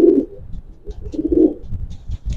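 A grizzle racing pigeon cooing close by, giving a few low throaty coos in a short rhythmic series with brief pauses, alone without talk.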